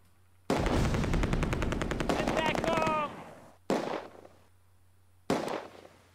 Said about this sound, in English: on the west wall we've got a machine gun firing at us